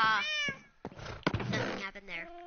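A pet cat meows several times in quick succession, close and fairly loud, with drawn-out tonal cries broken by short pauses and a faint knock.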